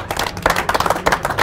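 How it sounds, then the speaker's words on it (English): Applause rises from the audience at a poker final table as a player is introduced, a short burst of close, dense hand clapping. "Let's give Cord the two seed a round of applause."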